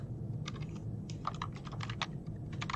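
Computer keyboard being typed on while writing a script, quick irregular bursts of close clicking keystrokes over a low background hum.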